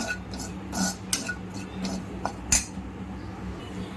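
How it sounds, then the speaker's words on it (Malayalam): Pav bhaji masala is stirred in a pan, with scattered metallic clinks and scrapes of a spoon against the pan over quiet background noise. "ഇനി ഇതൊന്ന് ഇളക്കാം."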